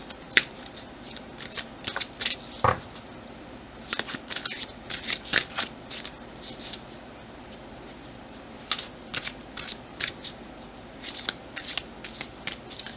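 Cards shuffled by hand for a card reading, heard as repeated bursts of crisp slapping and riffling in an irregular rhythm, close and moderately loud, with no talking.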